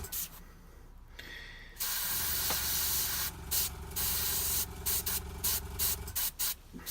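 Airbrush spraying paint onto a Blacksmith Miniatures Red Cap figure: a close, loud hissing spray in repeated short bursts with brief pauses between them, with faint background noise and no talking.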